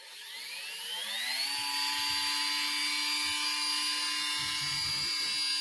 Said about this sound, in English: we're just going to drill into the side down here